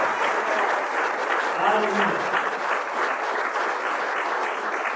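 A church congregation applauds at a gospel service, steady full clapping close and loud throughout, with a voice briefly speaking over it.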